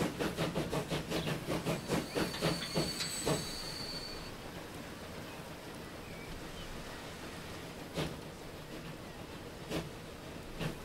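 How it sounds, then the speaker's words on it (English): A video game train in Transport Fever rolls past with rhythmic wheel clacks and a high metallic squeal, then settles into a steady rumble with occasional clunks. "Listen to that sound of that train, it is fantastic."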